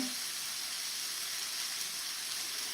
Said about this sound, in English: we're letting it sear, right, for 2 to 3 minutes on each side